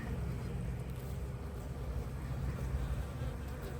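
Honeybees inside an open beehive make a dense, steady buzzing drone, close and continuous, with faint movement over the hum.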